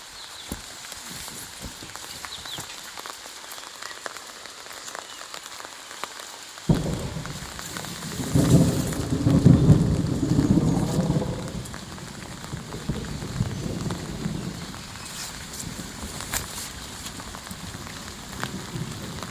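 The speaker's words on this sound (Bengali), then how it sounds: "আজকে যেহেতু বৃষ্টি পড়ছে" Steady rain patters on trees and surfaces in a garden in Chhatna while a low rumble of thunder swells and fades in the middle, then the rain continues alone.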